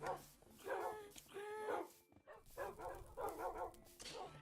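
A dog barks and whimpers in a short series of yips and bow-wows at close range, with quiet pauses between bursts and no talking over it.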